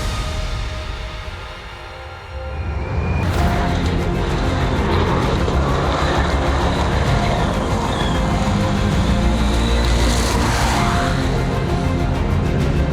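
A Subaru rally car is driven hard through the Sweet Lamb stage spectator area, a loud continuous engine roar rising and holding after a quieter opening, with gravel and road noise throughout.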